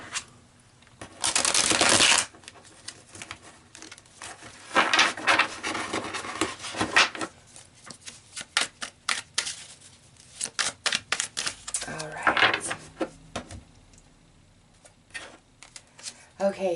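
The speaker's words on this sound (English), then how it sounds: "I feel like these need a good shuffle." A deck of tarot cards being shuffled by hand: a loud rushing riffle near the start, then a long run of quick papery rustles, slaps and flutters in irregular bursts, close up.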